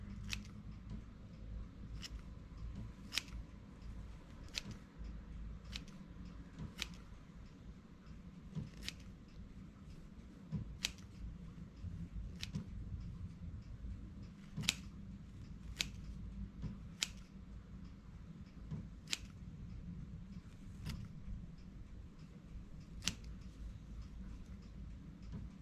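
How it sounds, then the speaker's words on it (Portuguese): Scissors snip through a knitted yarn pompom strip, with sharp, isolated cuts landing roughly every second or two over a low, steady background hum. No voices are heard. "Com uma tesoura, de preferência eu uso a tesoura virada"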